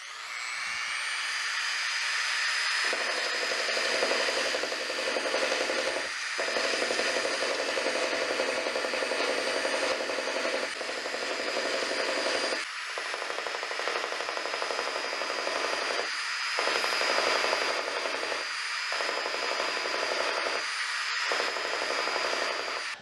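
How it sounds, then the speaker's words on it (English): An old finger sander works epoxy fillets on a CLC Passagemaker boat, giving a continuous high-pitched buzzing whine near the mic. The whir changes as the tool presses and lifts, with brief dips along the run. "old finger sander comes in pretty handy"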